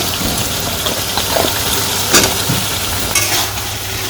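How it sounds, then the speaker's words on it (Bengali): Potatoes frying in spiced masala for a village-style mola fish dish, a steady loud sizzle with scraping stirring strokes close by, no speech. "আলুগুলা দিয়ে এখন আমি একটু ভালো করে কষিয়ে নিব"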